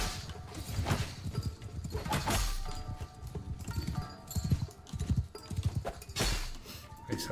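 Horse hooves clip-clop in the Mount and Blade mod Shokuho, a steady galloping patter mixed with battle clatter and occasional whinnies, while someone comments over the action.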